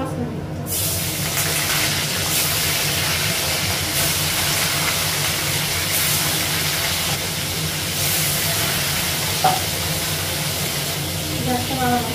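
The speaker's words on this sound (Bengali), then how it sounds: "মাছগুলো ভাজা হয়ে গেছে সব।" Pieces of fish frying in hot oil in a home kitchen pan give a steady, dense hiss and sizzle that carries unbroken through the whole stretch.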